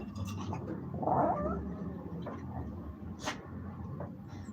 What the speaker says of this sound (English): That's the cat, Nip.